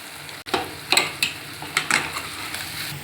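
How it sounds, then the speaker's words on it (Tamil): A spicy raw banana gravy is stirred and sautéed in a pan, giving a soft constant sizzle broken by several scraping strokes of a spoon, each one a short rasping rush, close and fairly loud with no talking. "இந்த மசாலாவோட பச்சை வாசனை போகிற வரைக்கும் அப்படியே லைட்டாக திருப்பி விட்டு வதக்கி விடுங்க."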